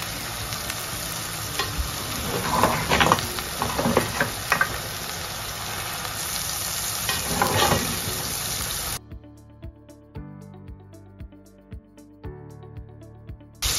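Meat pieces and sauce for okra (gombo) sauce frying in a pot, a steady sizzle with clinks of stirring for about nine seconds, then a quieter stretch with faint regular taps.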